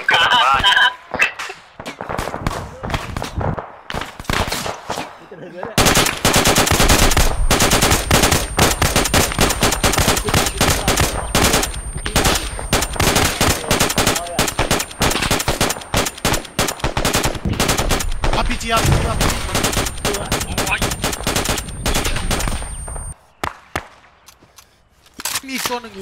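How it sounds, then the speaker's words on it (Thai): Machine gun fire in the military shooter Arma 3 during a supply-truck escort mission: long, loud, dense bursts of rapid shots that run almost continuously for over fifteen seconds, with someone speaking before and around the firing. "มีโซนหนึ่งอยู่กลางแจ้งเดี๋ยวผมเปลี่ยนกระสุนกันยิงให้หน่อย"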